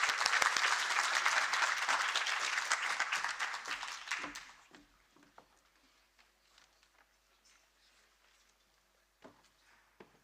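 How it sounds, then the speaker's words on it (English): Audience applause at a university community engagement event, a full burst of clapping for about four seconds that cuts off, followed by quiet room sound with scattered footsteps and small knocks. "Let us join our hands and applaud her as she makes her way to stage."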